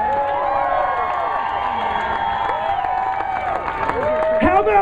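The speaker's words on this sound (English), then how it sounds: "How about a round of applause for the Megatoad?" Crowd cheers and applauds at an outdoor slugburger eating championship in Corinth, Mississippi, a steady wash of clapping and shouting voices with an announcer's amplified talk ringing over it throughout.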